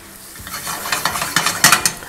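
Tomato paste hits a frying masala for rajma, producing a rising sizzle with a string of sharp spoon-on-pan scrapes and taps as it is stirred, close and fairly loud.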